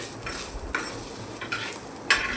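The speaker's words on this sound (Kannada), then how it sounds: "ಚೆನ್ನಾಗಿ ಮಿಕ್ಸ್ ಮಾಡಿಕೊಂಡು ಗೋಲ್ಡನ್ ಬರೋವರೆಗೂ ಹುರಿಬೇಕು." Chutney ingredients are stirred and fried in a pan until golden, giving close scraping strokes of a spatula over a soft continuous sizzle.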